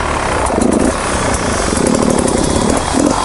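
A dirt bike engine idling as it warms up, a steady loud, rough burble with fast chugging, close by and continuous, with no talking.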